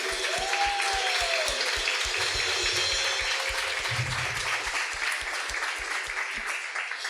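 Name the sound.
church congregation applause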